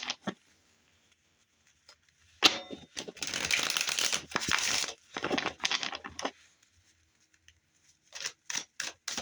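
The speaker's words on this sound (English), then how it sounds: "I have already pre-shuffled these decks, but I like to give them a shuffle on camera anyway." A deck of playing cards is shuffled close up in quiet bursts of riffling and flapping, two longer runs followed by a few short crisp shuffles.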